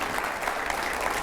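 A studio audience at a televised talk show with newspaper editors claps to welcome politician Ravi Shankar Prasad. The applause is loud and steady, made of many close hands clapping without pause.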